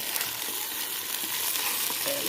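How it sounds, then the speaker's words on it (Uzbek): Meat fries in hot fat in a pot for rice pilaf, a dense, steady sizzle close up with soft stirring scrapes and no talk. "Yaxshilab qovuramiz buni."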